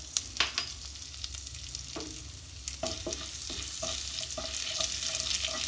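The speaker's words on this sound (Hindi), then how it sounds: "अब इसमें हम दे देते हैं जीरा और खड़े गरम मसाला को।" Cumin seeds and whole garam masala spices sizzle and crackle in hot oil with butter, a steady frying hiss that grows louder over time with occasional sharp pops and stirring clinks, no voices.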